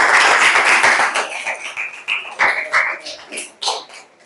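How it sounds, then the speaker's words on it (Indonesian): Students in an Indonesian classroom clap together, a burst of loud group clapping that thins into scattered, fading claps over a few seconds. "Tepuk."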